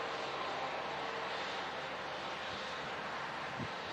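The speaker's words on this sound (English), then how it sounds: "Here's that Singapore Airlines Looks A350." Singapore Airlines Airbus A350 at Manchester Airport in strong winds, with a continuous broadband jet engine roar mixed with wind noise, steady and loud throughout, no speech.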